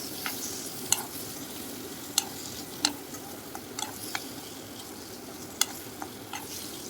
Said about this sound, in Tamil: இந்த மாதிரி நல்லா ஃப்ரை பண்ணிக்கோங்க.